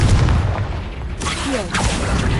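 A Confringo blast spell going off in the Hogwarts Legacy video game, a loud booming explosion with a rumbling burst and crackling tail.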